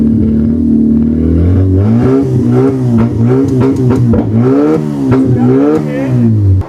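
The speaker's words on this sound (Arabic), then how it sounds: "عايزك تسمع الجمهور لصوت العربيه." A homemade Egyptian Lamborghini replica car, built on a rooftop, has its engine revving loudly and close by. The pitch rises and falls in repeated surges over a rough, clattering idle.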